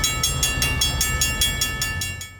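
Freight train hauling rock loads rolling past nearby: steady rumbling with evenly spaced rhythmic clicks of wheels over rail joints and a constant high tone, fading slightly at the end.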